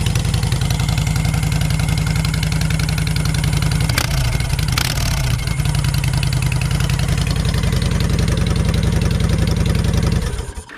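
A motorcycle engine with a Cobra 2000 EFI controller idles with its air breather removed, a loud close, steady low chugging pulse running throughout before cutting off at the end.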